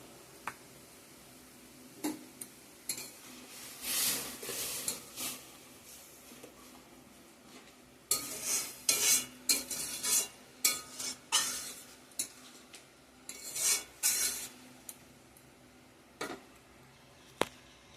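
Food frying in a pan with turmeric and cumin powder as it is stirred, giving a soft sizzle broken by scraping utensil strokes that come in bursts and grow busier and louder in the second half.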